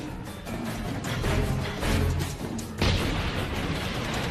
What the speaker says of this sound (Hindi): टक्कर होते ही एक जबरदस्त धमाका होता है।